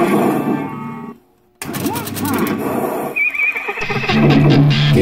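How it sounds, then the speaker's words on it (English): Whinnying horse sound effects from an electromechanical pinball machine, loud and close, with a brief silent gap between them and machine clatter beneath. "Horse."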